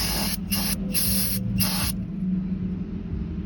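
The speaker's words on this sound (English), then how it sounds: "I like to take brake clean." Brake cleaner aerosol sprayed on car brake parts to clear brake dust, in four short, loud hissing bursts close up, followed by quiet.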